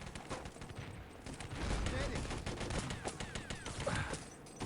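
MP40 submachine gun fire in a competitive World War II shooter match, a dense, distant crackle of rapid bursts mixed with other gunfire, sitting under ongoing commentary from a caster.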